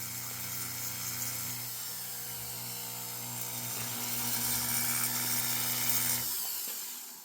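A Foredom rotary tool grinding the bottom of a cylinder, a steady faint whining hum with a high abrasive hiss that grows slightly louder midway before the motor winds down at the end.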